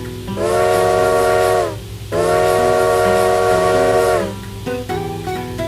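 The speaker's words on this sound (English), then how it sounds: "that sounds quite a bit like the Spirit Tracks whistle" Train whistle from the video game Zelda: Spirit Tracks, sounding as two long, loud, steady steam-whistle blasts with a hissy edge, followed by a few shorter softer tones.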